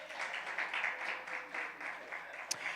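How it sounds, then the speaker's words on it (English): An audience at a youth gathering applauds, a soft, steady spread of clapping from a crowd heard at a distance and fairly quiet throughout, with no talking over it. "We can clap that up."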